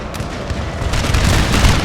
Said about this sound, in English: We're going to have the foot guards unleash some fusillades in a moment.